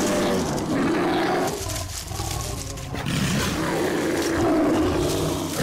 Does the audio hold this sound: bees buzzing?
no